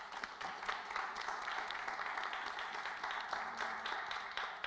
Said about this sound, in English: let's do a round of applause for that sensational